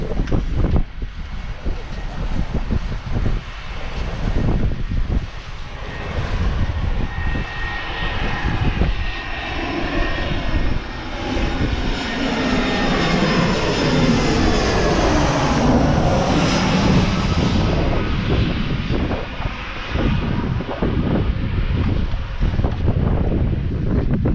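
A loud, continuous roar of jet airliners passing low overhead near Palermo, the engine noise swelling and sweeping in pitch, with wind buffeting the microphone throughout.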